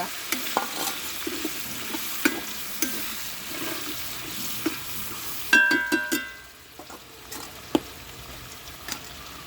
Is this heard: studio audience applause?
no